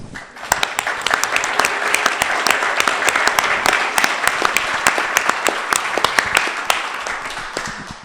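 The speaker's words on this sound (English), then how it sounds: "I'd like to actually give him a round of applause" A crowd claps and applauds steadily for several seconds, a dense patter of many hands that tapers off at the end.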